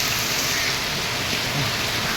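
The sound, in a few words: heavy rain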